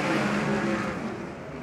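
Sprint cars roaring through a heat race at a speedway, a steady loud engine drone sustained throughout with no talk over it.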